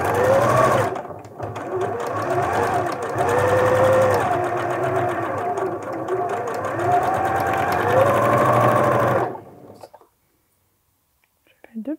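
A sewing machine runs steadily for about nine seconds, stitching a fabric dart along its basting line from the outer edge to the point, close and loud, then stops abruptly into near silence.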